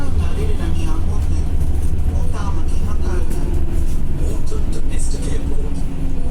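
Airport bus at Auckland Airport's domestic terminal turning in through boom gates, a loud continuous interior engine and road rumble filling the whole stretch, with no talk over it.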